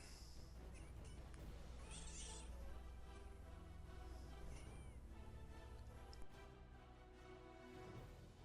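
A jealous cat meows and yowls faintly in a room near sleeping kittens, its cries rising and falling over a low background hum.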